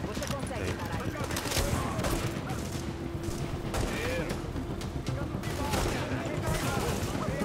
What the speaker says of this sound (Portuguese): Eu tô atirando no roxo aqui, mano.